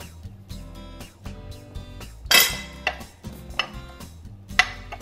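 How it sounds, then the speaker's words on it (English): A metal spoon stirs seasoned flour with Italian seasoning and black pepper in a bowl, giving a run of clinks and scrapes against the bowl's side, one sharp louder knock partway through, close and with no talk. "take a spoon and I just mix it like that"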